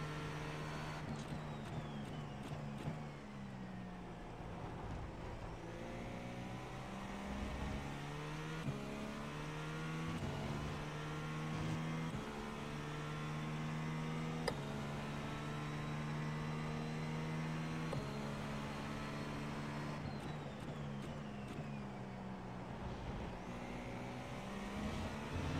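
A race car engine in a racing video game, droning steadily with repeated rises and falls in pitch as it accelerates and shifts gears, fairly quiet and without voices.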